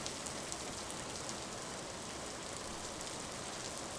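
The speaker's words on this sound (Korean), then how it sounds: "조금씩 빗소리가 작아지더니 이윽고 비가 그쳤어요." Steady rain falls as a soft, even hiss of drops on surfaces, faint and continuous, with no voices.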